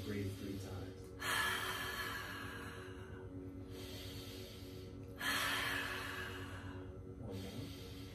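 Deep breathing by people standing during a neurolymphatic reflex session, long audible inhales and exhales repeated at a slow pace, close and breathy, with soft murmured talk in the gaps.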